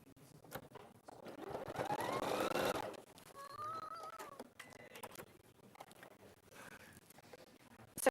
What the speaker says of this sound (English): I'll just put that there and stitch that in place.